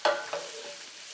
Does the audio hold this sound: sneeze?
no